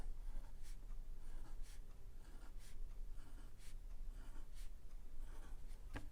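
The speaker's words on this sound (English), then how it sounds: "So starting on A, we're going to draw our 8 notes." A pencil draws music notes on paper, making faint, close scratchy strokes in short bursts against a quiet room hiss.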